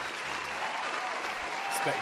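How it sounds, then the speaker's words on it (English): Applause from an NFL stadium crowd after the Bills beat the Broncos 31-7, a fairly faint, even wash of clapping running throughout. "I'll give him his first round of applause of the season for Dawson."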